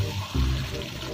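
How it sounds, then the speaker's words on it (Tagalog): Water pours into a pot for boiling pork and winter melon dumplings, a short close gush of liquid. "Lagyan natin siya ng tubig."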